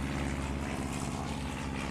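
Propeller planes in the Airport Madness: Time Machine 1925-1928 game prepare to take off. Their engines make a steady, buzzing drone with a constant pitch that holds briefly, and no one speaks.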